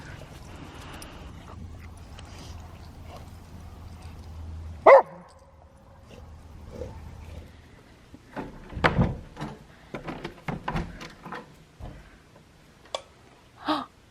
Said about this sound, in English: He finds rocks and he carries them around and he barks at them and he loves them.